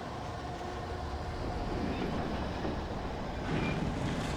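A train in the video game Alan Wake rumbles past at a distance, a low continuous rolling roar with faint rail clatter that swells slightly toward the end, quiet and with no voices.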